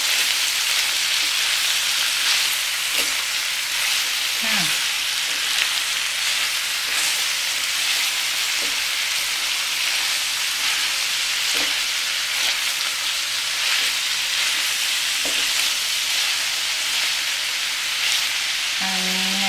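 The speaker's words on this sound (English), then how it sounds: "So I want all the onion and peppers to char a little bit. Cooking in high heat." Cabbage, onion and peppers stir-fry on high heat, making a loud, constant sizzle like heavy rain, broken by occasional scrapes and knocks of a utensil against the pan, with no speech.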